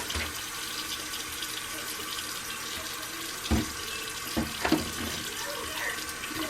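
Tap water runs steadily into a bathroom sink during rinsing after teeth whitening, a continuous close splashing with a few brief knocks near the end.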